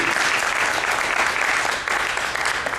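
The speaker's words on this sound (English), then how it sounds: "Another round of applause for our panelists," An audience at an urban summit education session applauds the panelists, dense and steady clapping from many hands for about three seconds with nobody speaking over it.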